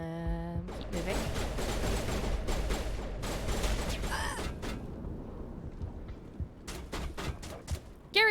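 Gunfire in Mass Effect Legendary Edition as Garrus shoots: rapid, dense bursts of weapon fire and clattering mechanisms, loud at first, then sparser sharp shots toward the end.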